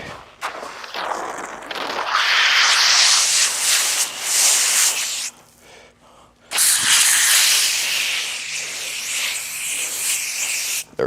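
A hose sprays water across a Toyota Corolla with a loud, close hissing rush in long bursts, a brief pause midway, then the spray resumes steadily to the end.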